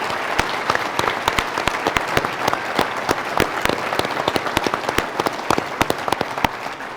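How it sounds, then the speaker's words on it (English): Steady applause from an audience honoring three mayors at a civic forum, dense clapping throughout with sharp individual claps standing out close by, no talking. "Please give the three mayors a round of applause"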